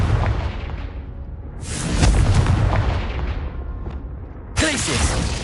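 Confringo blasting spell explosions in the video game Hogwarts Legacy, loud booming bursts layered with whooshes and rumbling, one swelling at mid-clip and another sharp hit near the end.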